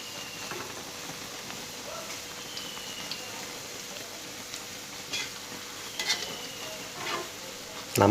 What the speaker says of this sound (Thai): ในเวลาทอดไข่เจียวเนี่ยครับ